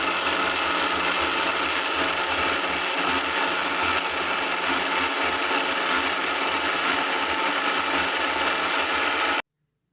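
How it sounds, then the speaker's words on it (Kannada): A mixer grinder churns milk cream with cold water to make butter, a steady, loud motor whir with a grinding rattle that runs continuously and then cuts off abruptly near the end. "ಇದನ್ನು ಈಗ ಗ್ರೈಂಡ್ ಮಾಡ್ಕೊತೀನಿ."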